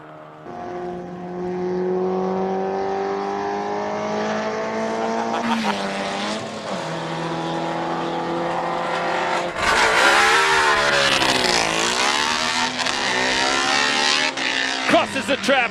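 A single-seater Lotus Type 7 replica race car, number 75, takes a chicane at a hill-climb speed event, its engine rising in pitch, dipping as it brakes, then screaming up again with tyre noise, while a commentator talks over the track sound.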